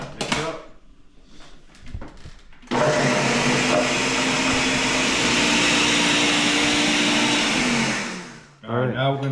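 A Ninja blender runs loud and steady for about six seconds while mixing pizza dough for a Chicago deep dish, with cold butter and salt in the jar. Softer kitchen handling comes before it and brief talk follows.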